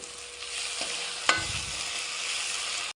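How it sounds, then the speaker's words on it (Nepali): Pork frying with chili and turmeric in a pan sizzles steadily while a utensil stirs and scrapes, with one sharp clink of metal partway through. "अघि फ्राई गरेको मासुलाई पनि यहीमा राखेर मैले मिक्स गर्छु"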